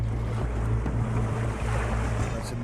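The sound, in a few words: failing boat motor at sea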